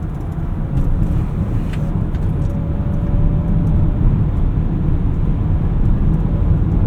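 A 2025 Volkswagen ID. Buzz electric van accelerates in sport mode, heard from inside as a steady low road rumble and wind roar with a faint rising whine, no talk over it.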